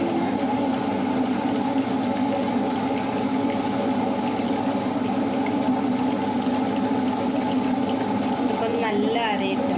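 A wet grinder churns rice and sago into idli batter with a continuous whirring, rumbling drone and faint watery grinding, steady and close, with no talking over it.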